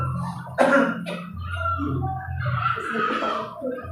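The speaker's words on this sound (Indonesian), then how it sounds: "Kalau tidak bawa tisu, batuknya seperti ini." A person demonstrates coughing into the crook of the arm during a tuberculosis awareness session at a school, giving one sharp cough and then a second, followed by muffled throat sounds.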